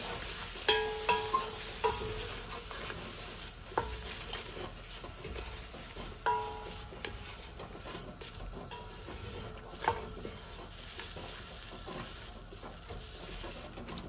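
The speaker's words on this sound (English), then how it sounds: "Going to add our dried chilies. And continue toasting those." Dried chilies toast in a pan with a soft, steady sizzle. Light scraping and stirring taps come through now and then, quiet and close.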